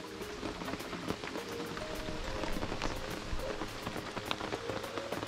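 Steady rain falls on a surface at a remote fishing camp in the Kimberley, Australia, a dense, continuous patter of drops with no voices, holding an even level throughout.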